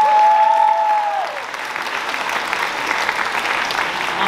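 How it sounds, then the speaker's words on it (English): Loud, dense applause from a crowd at a Diwali dinner, continuous clapping and a few cheers filling the room, following a brief whistle or squeal at the start. "can we just have another round of applause, please?"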